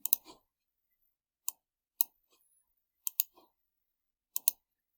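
Sharp computer mouse clicks, some in quick double pairs, spaced irregularly over a few seconds with near silence between them.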